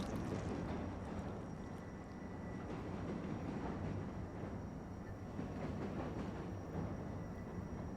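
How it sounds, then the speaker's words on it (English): In the video game Post Trauma, a train rams through gunk, giving a low, continuous rumbling rattle of rolling rail noise, steady and fairly distant, with no talk. "Now we ram the train through the gunk at the end here."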